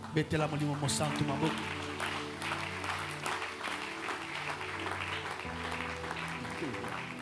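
A church congregation claps and cheers in praise of the Holy Spirit, a dense, sustained wash of applause mixed with voices and musical tones throughout.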